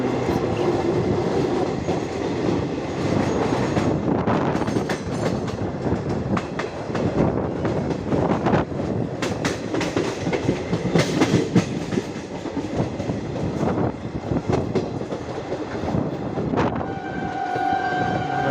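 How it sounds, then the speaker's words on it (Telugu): A train rumbles into a railway station at Ichchapuram, loud and continuous with rattling wheels and clanking cars, and a brief horn or whistle tone near the end. "ట్రైన్ చాలా గ్రాండ్గా లెజెండరీగా లోనికి ఎంట్రీ చూడండి"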